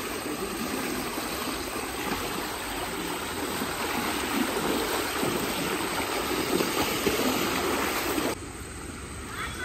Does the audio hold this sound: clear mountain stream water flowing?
yes